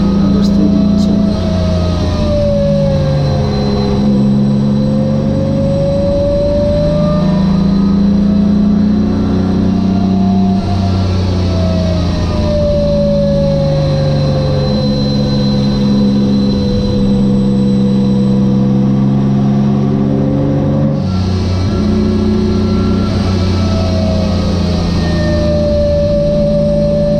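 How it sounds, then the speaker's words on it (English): Straight-six Mazda RX8 race car heard from inside on track at Donington, a loud droning engine that rises and falls in pitch as it revs through gears, with occasional shifts and no clear talk. "The car was so loud we couldn't really understood each other."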